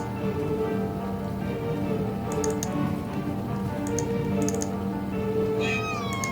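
A cat meows in the video game The Last Door, a few soft mews over low, droning ambient game music with faint ticking clicks, the last meow drawn out and rising.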